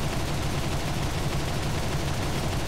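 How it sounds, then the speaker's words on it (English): Rapid, continuous aircraft gunfire from a War Thunder air battle forms a dense, loud, unbroken rattle with no talking. "Oh, he's already firing."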